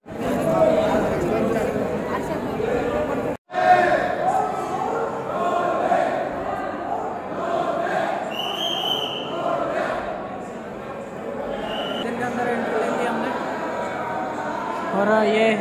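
A dense crowd of pilgrims fills the old Trimbakeshwar Jyotirlinga temple, a continuous roar of many voices and shuffling heard close around, with a brief drop-out midway and occasional higher calls rising above the din.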